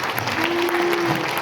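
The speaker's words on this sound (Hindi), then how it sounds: "एक बार फिर जोर से तालियां हो जाए।" Brief burst of audience clapping at a Hindi comic poetry gathering; dense, close applause from a crowd, lasting only a moment.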